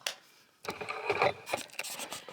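A sewing machine runs in short, rattling bursts of needle stitching as its bobbin runs out of thread, a busy mechanical chatter close by.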